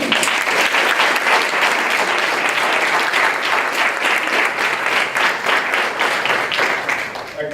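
A lecture audience applauds steadily as Dr. Mark Rosenberg is welcomed, a loud, even wash of clapping that holds throughout.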